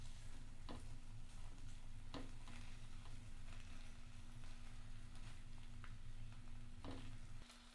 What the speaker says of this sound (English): In the same pan you can really just throw that English muffin down. All cooking together.